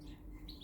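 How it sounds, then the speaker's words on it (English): Small birds chirping and tweeting close by as a flock gathers and squabbles, brief bright calls over a steady low background hum. "the birds are all coming in, lads"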